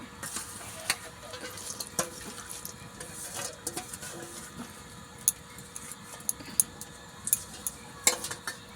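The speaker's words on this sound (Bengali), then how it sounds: "ধুয়ে পরিষ্কার করে রাখা শাকটা কড়ার মধ্যে দিয়ে দেব" Washed water spinach going into a wok and being stirred over a fire, heard as faint scattered clinks, scrapes and wet rustles with sharper taps toward the end, with no one talking.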